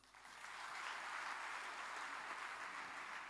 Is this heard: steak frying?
no